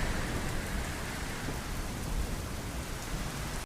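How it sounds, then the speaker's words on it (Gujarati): Heavy rain with thunder during a storm in Gujarat: a dense, steady roar of downpour on surfaces with low rumbling underneath, close and loud throughout, with no voices. "ભારે પવન અને વીજળીના કડાકા સાથે વરસાદ વરસ્યો"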